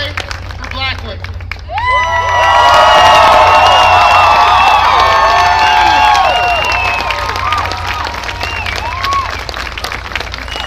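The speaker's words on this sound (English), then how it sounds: "if we can have the loudest cheer today for black women" A large outdoor rally crowd against police brutality and systemic racism erupts into loud, sustained cheering with whoops and clapping, swelling then gradually tapering off over several seconds.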